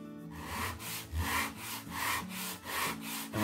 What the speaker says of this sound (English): We're going to sand our fins. We want to keep them perpendicular to the sandpaper.